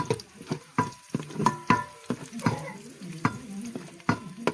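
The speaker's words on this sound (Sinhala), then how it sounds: "හොඳට මේ ටික රන්වන් පාට වෙනකම් බැද ගන්න" Cinnamon bark and cardamom pods frying in oil for a Sri Lankan baby jackfruit curry, with a soft sizzle broken by repeated sharp scrapes and taps of a spoon stirring in the pan, close and steady.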